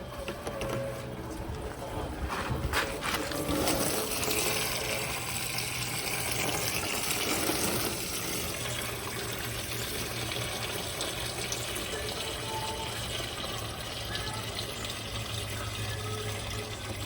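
Coolant draining from a 1984 Mercedes 380SL R107 during a coolant flush, heard as a steady gushing, splashing flow of liquid with a louder burst early on, continuing evenly throughout.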